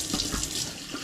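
Water runs steadily from a tap into a sink, flushing away fish scraps and bits of intestine, a continuous close splashing with no voices.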